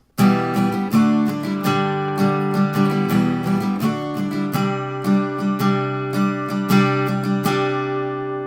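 Acoustic guitar plays the intro of a song with simple open chords, a steady strummed and picked pattern ringing clearly and alone for about eight seconds.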